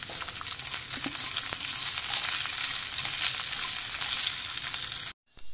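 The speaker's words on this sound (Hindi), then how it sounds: "बीन्स और गाजर डाल देंगे और इनको लगातार चलाएंगे" Beans and carrots sizzle steadily in a hot pan, a dense continuous frying hiss with faint scrapes of stirring, loud and close, cutting off abruptly near the end.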